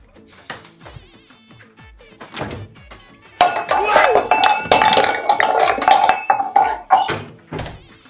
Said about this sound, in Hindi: खुद बर्तन डाली धोता है।